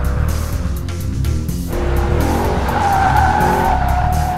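Mercedes-Benz C63 507 Coupe cornering hard on a skid pad, its engine droning steadily while tires scrub and squeal, the howl rising and holding loud and near throughout.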